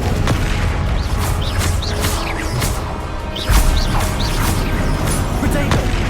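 Confringo spell explosions from Hogwarts Legacy combat: a run of repeated bright blasts and crackling impacts over a dense, busy battle din, with one heavier boom near the middle.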